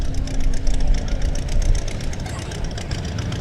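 A McCormick tractor engine idles at an outdoor pioneer days show, a rough, knocking low chug running steadily throughout, with crowd noise faintly behind it.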